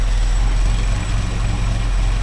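A Buick V6 engine idles in a 1978 Datsun King Cab, a steady low rumble close by, with no talk.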